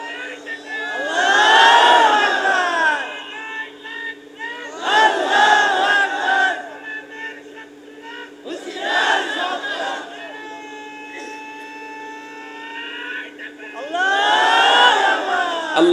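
Large crowd at a Bangladeshi religious gathering shouting slogans in unison, loud rhythmic chanted bursts repeating several times with brief pauses between, echoing through a sound system.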